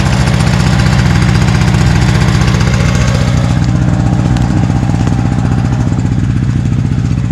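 A smoky 2-stroke engine idling loud and close while it warms up, a fast steady putter with a rough even vibration from start to finish.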